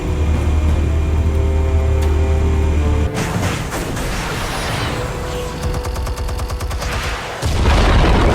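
Batman video game explosives going off: a sustained roar of blasts and rumbling booms, loud and dense, with a sharp shift into crackling debris and a deep rumble at the end.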